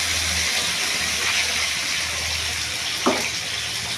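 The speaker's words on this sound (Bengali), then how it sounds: "আমি গরম জল দেবো মাছে" Hot water poured onto fish frying in oil in a pan gives a steady gushing, sizzling wash of sound, close and constant, with a brief splash near the end.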